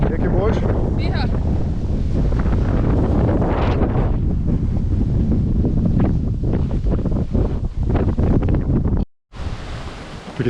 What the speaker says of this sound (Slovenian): Drugače pa kar fajn piha.